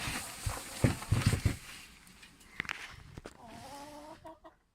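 Backyard chickens cluck and murmur close by while pecking at scattered straw, with bursts of busier clucking early on, then quieter scattered calls and a few brief higher notes toward the end.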